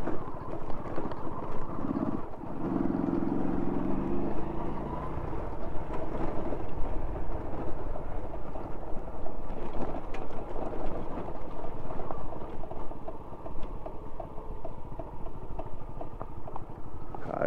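A motorcycle rides along a dusty road with a chain that creaks after lubrication and a day of dust, giving a steady, unbroken engine drone with faint rattly ticks throughout.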